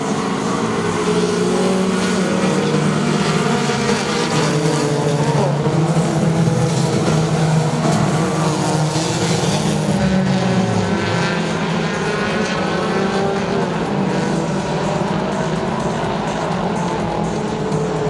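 Race cars lapping Saratoga Speedway, a loud continuous roar of engines droning and shifting in pitch as the pack passes, steady and fairly close with no clear voices.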